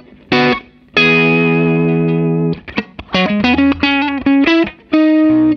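Electric guitar through an overdriven Matchless HC-30 tube amp, its preamp tubes driven into distortion: a long sustained chord, then a run of choppy, crunchy notes and short stabs, close and loud with no voice.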